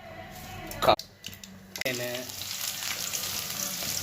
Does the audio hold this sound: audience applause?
no